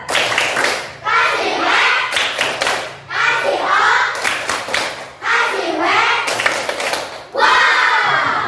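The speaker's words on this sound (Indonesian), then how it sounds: "minta kita tepuk wow ya" Children in a classroom perform a rhythmic clapping chant together, loud bursts of hand claps and shouted syllables in repeated groups, close and energetic with brief pauses between rounds.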